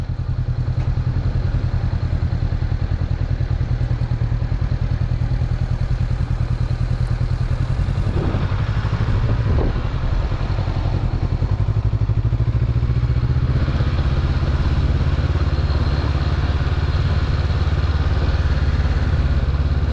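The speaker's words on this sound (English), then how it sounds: "very nice motorcycle" A 2021 Honda CB500X motorcycle idling, a steady low engine rumble close by with a few clattery thumps and knocks midway, no voices over it.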